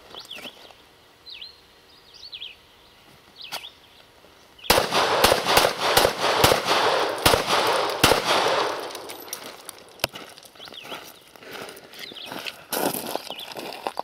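Sharp 9mm pistol shots from a Glock 19 RTF2 at an outdoor range, a quiet stretch with scattered distant reports giving way to a loud, rapid run of close shots with ringing echoes, then slower spaced shots.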